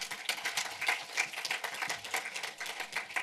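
Scattered clapping from a lecture audience, a brief burst of hand claps at moderate distance with no talking.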